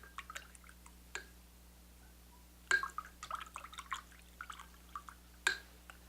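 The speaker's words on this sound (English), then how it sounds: "We're just going to rinse it out." A paintbrush cleared of masking fluid is rinsed under running water, giving scattered soft drips and splashes, with a few louder splashy bursts at close range and no voices.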